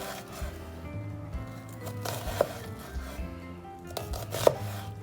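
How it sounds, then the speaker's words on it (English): A knife cuts down through an onion on a board in a home kitchen, giving a few distinct sharp chops with soft scraping in between, close and moderately loud. "So I'm going to cut down the onion."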